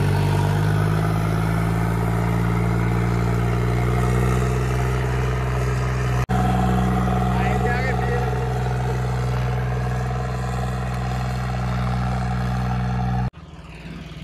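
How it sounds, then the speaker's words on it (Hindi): A tractor engine runs at 2500 RPM during field work, giving a loud, steady, low-pitched drone that holds constant, with a sharp click midway before the sound drops off abruptly near the end. "भाई 2500 RPM पर चला के देखो कोई ट्रैक्टर पर कैसे दबाव"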